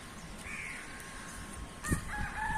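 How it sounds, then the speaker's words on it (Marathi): Morning birds call outdoors, with tonal chirps and whistles scattered over a steady background hum, plus a brief louder thump near the end. Crow-like and rooster-like calls are mixed in at moderate distance. No one speaks. "अशी ही अवस्था आहे सकाळची बघा पक्षी बघा"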